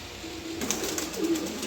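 Pigeons offered at a pigeon sale give a soft, low coo that swells near the end, close by over a faint hiss of background noise.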